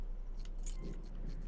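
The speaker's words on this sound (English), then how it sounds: "Oh, pick up the side keys." Keys jangle softly with a few light metallic clinks as they are picked up in a video game, quiet over a steady low hum.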